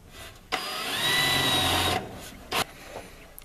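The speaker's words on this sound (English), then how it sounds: "And we'll drill it with a unibit." A unibit step drill bores a hole for a homemade supplied-air respirator, starting abruptly with a loud whining drone for about one and a half seconds, then a short second burst a moment later, with no talking.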